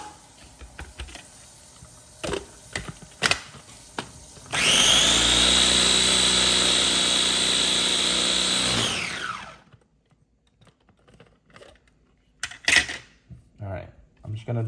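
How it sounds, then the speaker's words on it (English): A blender whirs steadily for about five seconds, chopping and mixing a hot pepper mixture, before stopping; a person talks briefly before and after, with kitchen clatter around it. "I'm just gonna blend this a little more"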